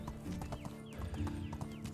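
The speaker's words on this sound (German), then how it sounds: "Reiten, reiten, reiten, reiten." A horse's hooves clip-clop at a steady pace while being ridden in the medieval survival game Medieval Dynasty, fairly close, with a faint neigh over the game ambience.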